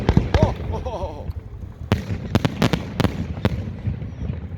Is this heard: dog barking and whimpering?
no